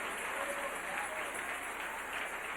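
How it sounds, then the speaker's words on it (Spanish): A church congregation at a Spanish-language service applauds in a steady, even roar of many hands clapping together, sustained throughout without pause. "Denle ese aplauso al Rey."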